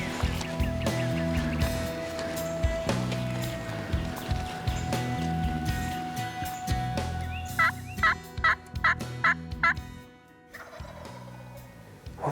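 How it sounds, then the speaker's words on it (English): A wild turkey gobbles far off across a road during a spring hunt, a series of about five quick rattling gobbles heard faintly over a steady outdoor hum, with no talk. "That bird gobbled all the way over across the road, like 400 yards."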